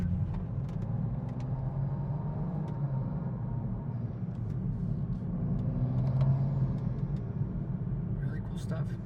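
A BMW with a tuned XHP automatic transmission drives along, its engine droning steadily with faint rises and drops in pitch as gears change, under road rumble and occasional clicks.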